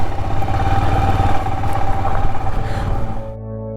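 Motorcycle engine on a long solo highway ride at about 60 km/h, a loud steady close drone with rattling clatter that drops suddenly near the end.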